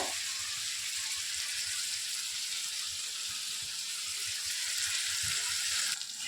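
Bombay duck fish fry in a pan over a high gas flame, a loud, continuous hissing sizzle with dense crackle that stays even throughout.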